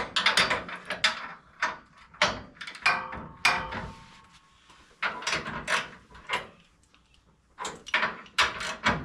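Bolt being snugged up on the front end of a car during a mock-up, heard as a series of close, irregular metallic clicks and ratcheting bursts with brief pauses between them.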